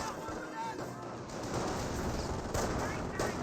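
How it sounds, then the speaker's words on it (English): Sustained MG42 machine-gun fire in Company of Heroes, a dense continuous rattle from high ground mixed with other battle noise, with faint talk underneath. "MG42 is firing from the high ground"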